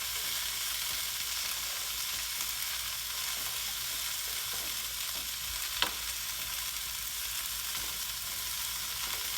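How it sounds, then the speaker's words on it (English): Vegetables and shiitake mushrooms sizzle steadily in a pan with ginger and grated garlic, a soft continuous frying hiss with one brief sharper tick near the end. "we're going to saute this for another 2 or 3 minutes"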